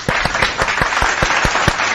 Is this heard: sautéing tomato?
no